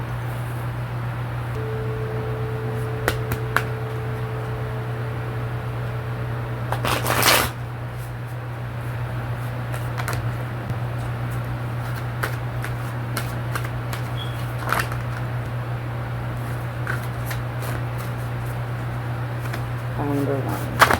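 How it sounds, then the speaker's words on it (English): A deck of tarot cards is shuffled and cards pulled, giving repeated crisp riffles and flicks with one louder burst near the start, close against a steady low hum. "So I'm going to go ahead and pull the cards, and then I will show them to you."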